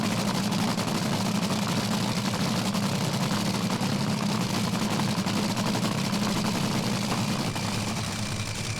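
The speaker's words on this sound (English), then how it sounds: "The big supercharger hat there, sucking all that air into the engine." A supercharged Top Fuel dragster engine runs at a drag strip before staging, giving a loud, steady, deep roar with a rough throb that holds evenly throughout with no one speaking.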